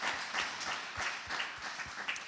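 A church congregation at a Christmas service claps together in a sustained, rhythmic round of applause, a steady dense patter with beat-like pulses heard at moderate distance and no clear talking.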